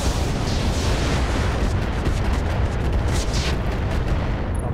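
Incendiary weapon fire in the mech battle game Roguetech, a dense, loud, continuous rumbling roar of explosions with bursts of crackle throughout.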